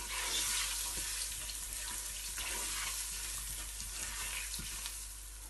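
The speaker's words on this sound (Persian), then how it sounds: "یک اندازه سرخ میکنیم." Onions and tomatoes frying in a pan for restaurant-style biryani, a steady close hiss and sizzle with faint stirring clinks running throughout, no voices.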